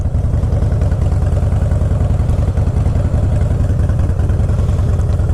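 A Harley-Davidson Fat Boy motorcycle engine runs with a loud, close, steady throbbing rumble and an even, rapid pulse that continues unbroken from start to finish.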